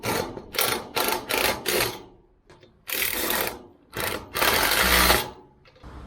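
An impact wrench tightens bolts on a Kings 270-degree awning, firing close, loud rattling bursts in quick repeated pulses and then a couple of longer runs.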